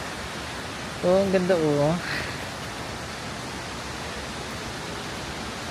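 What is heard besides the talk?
waterfall in Wulai, Taiwan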